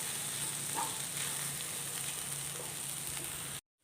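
Banana flower and egg masala sizzles steadily in a hot pan while being stirred, a close, even frying hiss with a few soft scrapes, ending abruptly in silence.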